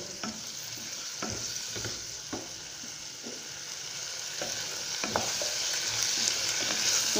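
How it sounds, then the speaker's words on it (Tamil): Ingredients for mint chutney sauté in a pan, with a continuous sizzle of frying and regular sharp scrapes and clicks as a spoon stirs, close and steady. "இது நல்லா வணக்கிட்டு பாருங்கள் நல்லா மொறுமொறுன்னு வந்துடும்."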